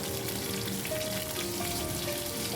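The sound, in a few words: dried red chillies sizzling in hot oil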